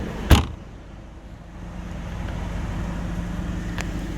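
A Mercedes C180 Kompressor with a 1.8 petrol engine idles with a low, steady rumble after a brief sharp knock, heard from nearby with no voices.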